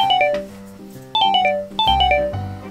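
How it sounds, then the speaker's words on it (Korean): A mobile phone rings with a bright, repeating melodic ringtone, loud and close, in three rising phrases in a kitchen where yogurt is being cut. "누나 전화 오는데?"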